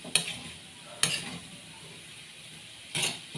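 Mixed vegetables stirred in a pan, with three sharp scraping clatters of a utensil against the pan spaced over a low background hiss, no talking.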